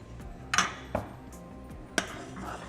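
A spoon clinks and knocks against a pot a few times while breadcrumbs are mixed into boiling milk for a paneer rabdi, with a soft bubbling hiss underneath.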